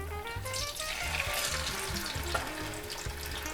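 A vegan Colorado/New Mexico style chile relleno fries seam-down in a pan, with a steady close sizzle and bubbling crackle running evenly throughout and no voices.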